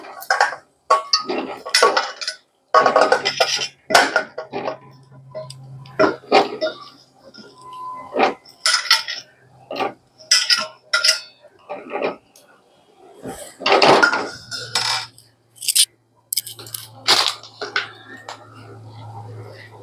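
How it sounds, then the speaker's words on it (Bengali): Potatoes dropped one at a time into a pressure cooker, giving a string of sharp knocks and clunks at uneven intervals, close by, with someone talking between them. "এবার আলুগুলো আমি সব দিয়ে দেবো এক এক করে প্রেসার কুকারের মধ্যে।"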